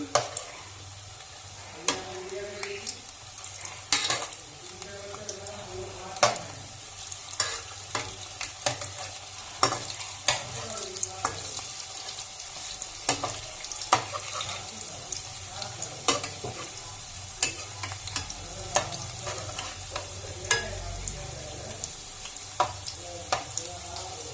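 Hinche pakoras fry in hot oil in a kadai with a steady, close sizzle, punctuated by sharp clinks and scrapes of stirring and turning every second or two; no one speaks.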